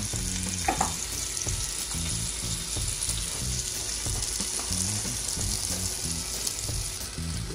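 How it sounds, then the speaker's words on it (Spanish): A buttered burger bun sizzles steadily as it toasts on a hot griddle, a constant frying crackle heard alone with no talking. "Lo vamos a colocar en la plancha para dorarlo un poquito."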